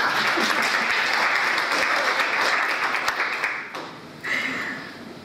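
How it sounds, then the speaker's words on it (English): A church congregation claps for Suzanne in a loud, dense burst of applause that holds steady, then fades and briefly dips before a short swell near the end. "Yes, clap for Suzanne."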